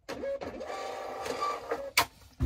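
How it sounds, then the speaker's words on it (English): A label printer running off a shipping label for an eBay sale, a close, steady mechanical whir with a brief clunk near the end and a sharp final feed. "Love this printer."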